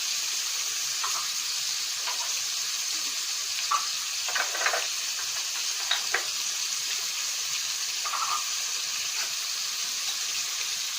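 Mushrooms sauté in a pan as spices go in, giving a soft continuous sizzle with occasional light clicks and scrapes from stirring, fairly quiet throughout.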